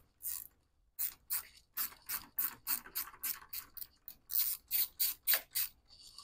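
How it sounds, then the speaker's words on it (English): A quarter-inch ratchet with an extension clicks in quick, close bursts while loosening hose clamps at a Ford Taurus coolant reservoir, the strokes fairly regular with brief pauses between them. "I've got my extension with my quarter inch ratchet, and let's remove these hose clamps that are right here."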